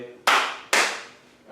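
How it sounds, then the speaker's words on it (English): Two sharp group claps in a quick, deliberate pattern ring out loudly, each cutting off with a short decay, given as a special rhythmic cheer during a children's chess lesson. "we do like to give you special claps like that"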